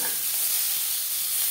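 Drumstick stems and bitter gourd fry in a pan with a steady, dense sizzle and light stirring. It is close and constant, with no voices.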